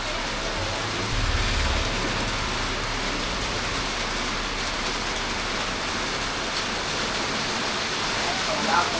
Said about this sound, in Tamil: நச்சுன்னு வந்துச்சு பாருங்கள் மழை